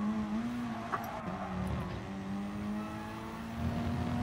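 A race car engine in a PSVR racing game, a steady droning tone that dips and shifts as the car slows under braking, then picks up again, moderately loud with no talk.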